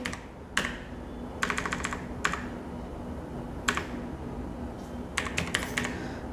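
Keys clack in short bursts on a computer keyboard while entering a list in a spreadsheet, close up over a low steady hum.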